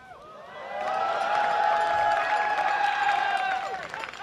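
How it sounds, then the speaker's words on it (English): Audience at an esports grand final, the MLG Providence 2011 event, cheering loudly in a swelling, sustained roar with a tonal ringing line carried through it. "Got a little cowbell in there."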